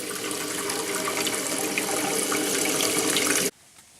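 Warm water runs steadily from a tap while preparing bread dough, a continuous close splashing flow that cuts off abruptly near the end, leaving quiet room tone.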